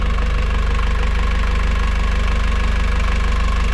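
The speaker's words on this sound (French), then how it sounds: "c'est un Volvo Penta D2 de 55 chevaux" A Volvo Penta D2 55 hp marine diesel engine runs in the cockpit engine bay of a Jouet 1040 sailboat in the Mediterranean, with a loud, close, steady rhythmic knocking idle and no voices.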